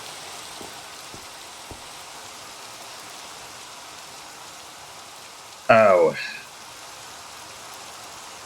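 Rain in the video game Minecraft, a soft steady hiss running throughout, with a few faint taps early on and a short loud burst partway through as someone exclaims briefly.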